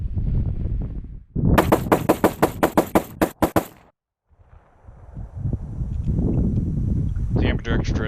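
A Springfield XD-40 pistol fires a rapid string of about a dozen sharp, loud gunshots in quick succession, followed by a pause and wind-buffeted outdoor noise with a few more distant shots at the end; someone speaks briefly before the shooting.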